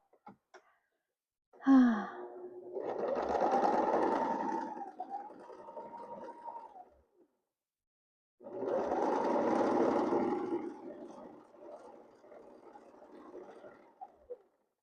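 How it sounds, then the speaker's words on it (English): A sewing machine stitches in two sustained runs, a loud whirring hum lasting several seconds each, separated by a brief pause, close and without talk. "I'll just go sewing"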